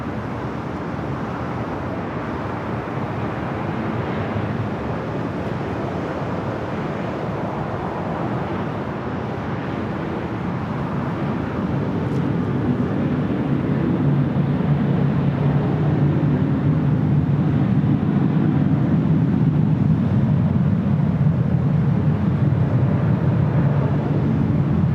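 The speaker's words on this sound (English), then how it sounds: "787-9 Dreamliner" A Boeing 787-9 Dreamliner at LAX gives off a steady, broad roar that builds gradually and stays loud and continuous throughout, with no talking over it.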